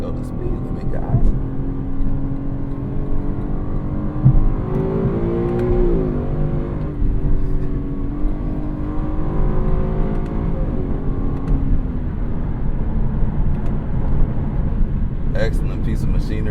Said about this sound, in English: I'm talking about that V8, y'all, if you didn't know.